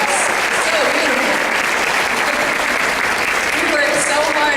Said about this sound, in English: Another round of applause for that French horn section of the altos.